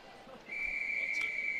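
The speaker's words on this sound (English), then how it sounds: "The referee's whistle goes and the swimmers make their way onto the blocks" A referee's single sustained whistle blast at a Scottish schools swimming championship, sharp and steady after a brief lull, heard over a faint pool-hall murmur.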